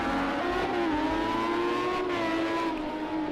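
Race car in Project Cars 2 at Circuit of the Americas, its engine screaming loudly through a long right-hand corner with a sustained high whine that rises and dips slightly as it holds the turn.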